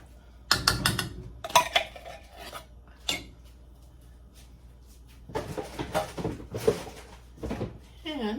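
Chili meat being stirred in a pot, with scraping, rasping utensil strokes against the pot in two bursts separated by a quieter pause, close by, with some talk in the background.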